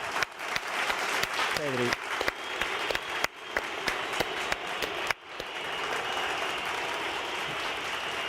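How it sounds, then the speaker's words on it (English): Applause and cheering from a crowd at a PSG vs FC Barcelona Champions League match, steady and dense throughout, with a commentator's voice talking over it. "I'm hearing the applauses in my earpiece here"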